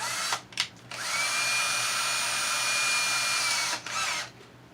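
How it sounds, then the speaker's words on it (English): Power drill boring a hole into a Sharp RT-100 cassette deck: two quick trigger blips, then a loud, steady high whine for about three seconds before spinning down, close up and alone. "drill our hole"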